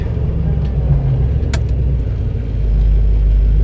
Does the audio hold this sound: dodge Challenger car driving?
yes